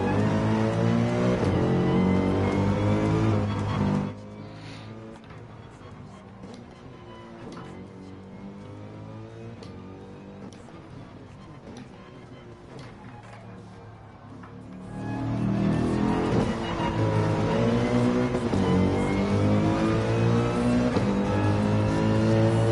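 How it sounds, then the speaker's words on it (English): V8 race car engine from a Porsche 911 in Gran Turismo 7, roaring loud and continuous with rising and falling revs, dipping for a stretch in the middle before surging back to full throttle. "Love the V8 sound off this."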